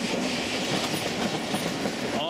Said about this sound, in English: And here comes yet another train.